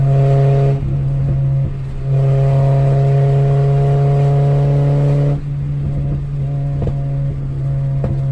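A Honda Civic EK with a B16A engine and open headers idles roughly and loud up close, with steady low drone, brief revs and sharp pops from the open exhaust, no talking.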